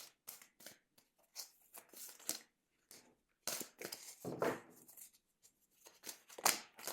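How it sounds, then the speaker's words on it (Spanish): Playing cards are shuffled in quick bursts of riffling and sliding, crisp and close, with brief pauses between handfuls. "vamos a barajar primero las cartas"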